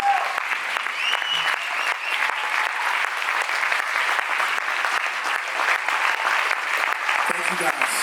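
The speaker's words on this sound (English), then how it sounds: "Would you give all of these men and women a hand clap tonight?" A crowd at a leaders' panel discussion applauds the panel, sustained even clapping at constant loudness throughout, with some voices mixed in.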